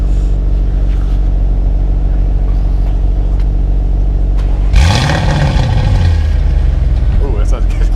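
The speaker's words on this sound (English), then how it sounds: "You give us a cold start there?" A car engine fires from cold partway through, a cranking catch rising into a loud revving roar that settles toward a high idle, over a steady low rumble from another running engine, close by.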